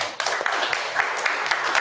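Audience applause at a community event, a steady spread of clapping that fills the short stretch without letup, fairly close and moderately loud.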